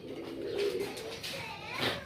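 Soft, close cooing of Qasid breed homing pigeons at a fancy pigeon farm, a couple of low throaty coos with faint background noise.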